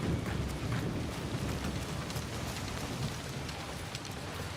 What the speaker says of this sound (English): and the rain effects look good too, actually.